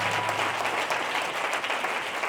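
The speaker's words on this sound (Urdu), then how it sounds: "تالیاں بجائے گا." A church congregation breaks into loud, sustained applause, dense clapping from a crowd close by, with no speech over it.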